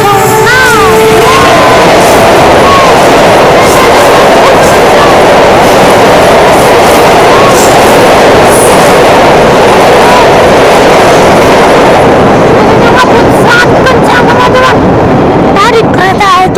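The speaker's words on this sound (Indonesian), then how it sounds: "Keretanya ngebut kencang banget" An Argowilis passenger train hauled by a CC 206 locomotive rushes past at high speed, a loud, continuous roar of wheels and rushing air close by, with rail clatter easing toward the end.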